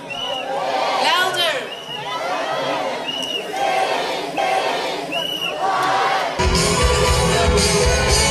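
A graduation crowd whoops and cheers loudly for graduates coming onto the stage, with rising shouts and battle-cry yells, then a surge of dense noise at the end.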